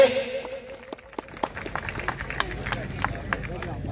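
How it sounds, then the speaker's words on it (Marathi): Scattered crowd clapping for a victorious wrestler at a kusti akhada in Maval, Pune, sharp claps rising out of outdoor crowd murmur and a fading announcer's voice. "जरा टाळ्या वाजवा त्या पोरासाठी."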